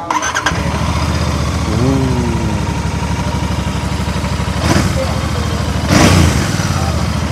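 A Royal Enfield Bear 650 motorcycle engine with standard exhaust idles with a rough steady rumble, then revs in two sharp bursts, loud and close.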